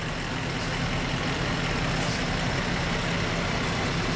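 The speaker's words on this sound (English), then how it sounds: "They've got some of their vehicles here with us today." Fire department truck rolling past in a town parade, a steady, moderately distant engine rumble mixed with broad outdoor noise and no clear voices.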